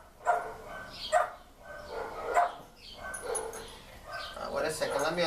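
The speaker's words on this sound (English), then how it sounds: "Now, that's Kira barking." Kira, a dog, gives a few separate barks about a second apart, mid-distance and moderately loud, followed by a busier stretch of yips and noise at the end.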